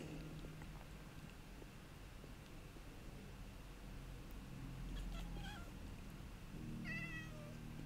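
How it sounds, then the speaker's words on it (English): A cat meowing in Minecraft, a few short rising cries around the middle and end over a steady noisy game background. "So I've just been collecting cats in the meantime."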